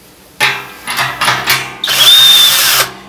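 A power drill cuts into a stainless steel brew pot, loud and close, starting in short bursts of revving and grinding, then running steadily for about a second with a thin metallic whine before stopping.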